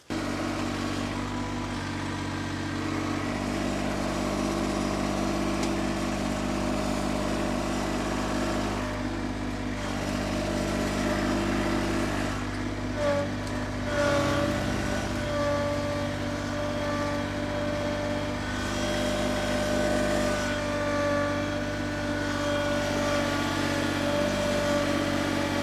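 Engine of a custom-built log hauler running steadily, a loud continuous idle-like drone with a slight rise in intensity midway, no talking.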